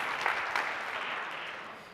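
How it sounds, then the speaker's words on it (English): An audience at an MIT entrepreneurship competition launch applauds the competitors, a brief burst of many hands clapping that fades gradually over two seconds. "round of applause for all of our competitors"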